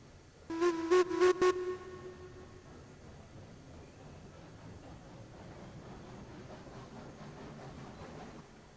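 A locomotive horn sounds in four short blasts, then a train rumbles steadily along the track in the Railroads Online video game, moderately loud and continuous with no talk.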